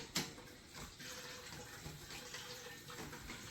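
Chicken broth is poured through a strainer into a stock pot for canning, a soft continuous liquid splashing and trickle, quiet and close, with a brief clink near the start and no talk.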